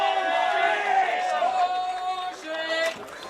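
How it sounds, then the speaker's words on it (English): A rugby league crowd at a first grade country match reacts unhappily to a referee's knock-on call. Many voices shout and jeer together in a sustained, moderately loud groundswell, with individual calls standing out. "Crowd not happy about the decision"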